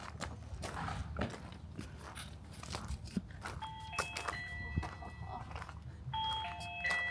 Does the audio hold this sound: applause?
no